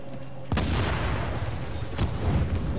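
A grenade goes off in The Division with a sudden loud broadband boom, then a rumbling tail, and a second sharp blast follows about a second and a half later.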